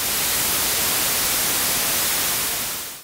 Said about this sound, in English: So we got ourselves a hiss sound already